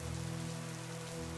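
Cold rain falling and pattering on a surface, a dense, even hiss mixed with a low steady hum, with no voices.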